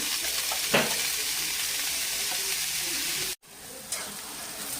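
Sliced onions fry in oil with a constant, close crackling sizzle, a couple of sharp utensil knocks, and one sudden brief dropout before the hiss returns.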